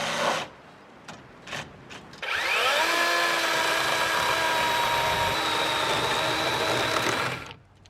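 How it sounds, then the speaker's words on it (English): A Sawzall reciprocating saw cuts through a 4x4 wooden post: a few short taps, then the motor spins up into a loud, sustained buzzing cut that runs for several seconds before stopping. "we have to cut these 4x4s off at the top. I think we're going to use our Sawzall"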